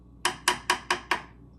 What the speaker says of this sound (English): this is the sound of the metal